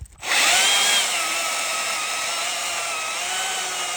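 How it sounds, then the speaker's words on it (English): A chainsaw set to its fastest chain speed for delimbing starts abruptly and then runs as a loud, steady, high-pitched whine, close and alone, easing only slightly after the first second. "turn it up to the fastest chain speed, the delimbing mode"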